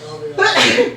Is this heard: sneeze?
yes